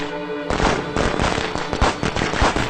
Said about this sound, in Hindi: पटाखे कौन दगा रहा है?